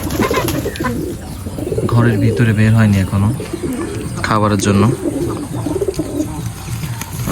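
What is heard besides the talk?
pigeons cooing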